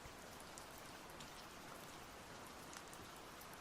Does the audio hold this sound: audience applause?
no